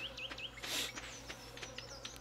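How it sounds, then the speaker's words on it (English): Bees buzzing in the farming game Stardew Valley, a faint low steady drone under chirping bird calls and a brief rustling swell, quiet and in the background. "You can hear the bees, but you can't see the bees"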